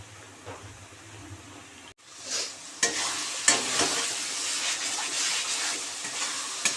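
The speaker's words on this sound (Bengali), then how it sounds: "পেঁয়াজ আদা রসুনটা এরকম লাল লাল করে আমরা ভাজা ভাজা করে নিয়ে" Onion, ginger and garlic paste frying in a pan for masala chicken gives a loud, steady sizzle with stirring. A quieter start is followed by a brief break, then the hiss and clatter of stirring continue throughout.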